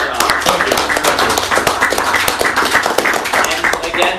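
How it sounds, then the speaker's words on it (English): Audience round of applause at a library centennial event, sharp crisp clapping in a dense, steady burst close to the microphone, continuing throughout. "let's give another round of applause."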